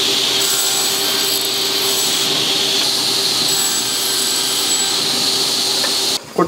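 A table saw with a rising blade runs loudly in a Japanese woodworking shop where furniture is joined without nails. It gives a continuous high whine and roar that cuts off abruptly just before the end, with no talk.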